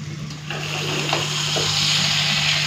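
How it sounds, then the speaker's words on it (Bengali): Small mourala fish frying in oil in a pan, giving a continuous bright sizzle that swells after a moment and holds steady, with a low hum underneath. "এদিকে মাছটাও প্লেট ভাজা হয়ে গেল একবার উল্টিয়ে দিই"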